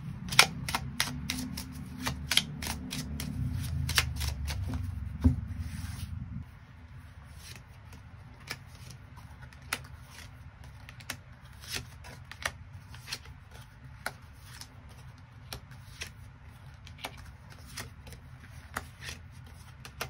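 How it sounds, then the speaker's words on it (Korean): Tarot cards are shuffled and drawn one by one in a quiet room, with crisp snapping taps and flicks spaced irregularly over a soft background, and a low hum that drops away after the first few seconds. "추가 카드로 일별로 월요일부터 일요일까지 어떤 하루를 보내게 될지 추가 카드 뽑아보도록 하겠습니다"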